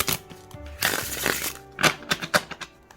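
Cards are shuffled in irregular papery bursts and taps, close and fairly soft, with short rustling riffles and small slaps between them.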